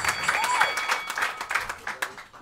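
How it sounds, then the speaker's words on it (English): A comedy roast crowd claps and cheers together, sustained clapping with a few sharp louder claps and whoops, near and lively throughout. "Clap your hands"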